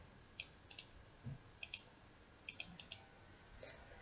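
Computer keyboard keys tapped to enter a command, a dozen or so sharp, close clicks in quick irregular bursts with brief pauses in a quiet room.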